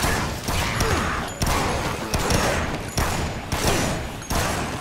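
Sustained automatic gunfire from the Dead Rising zombie video game, loud, dense bursts with sharp repeated cracks and a few breaks over about five seconds.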